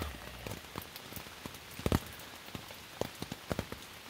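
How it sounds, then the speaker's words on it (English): Heavy rain patters on a camping tent, a dense, close drumming broken by sharper, louder drops striking the fabric, with no voices. "It's supposed to be hard rain for the rest of the day"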